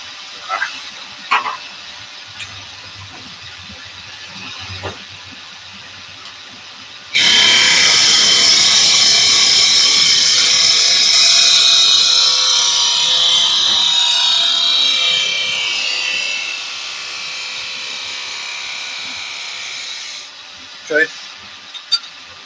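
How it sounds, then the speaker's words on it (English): Wood lathe turning a spindle with a spindle gouge in a hands-on woodturning tutorial: a loud, steady hissing whir begins abruptly and runs for about thirteen seconds, then stops, with faint quiet handling sounds before and after. "Are you using a gouge or a skew chisel there, Adam?"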